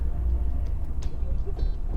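A turbocharged Lexus IS300 with a leaking, oil-fouled engine idles roughly, a steady low rumble with uneven, loping pulses throughout, fairly close and continuous with no voices.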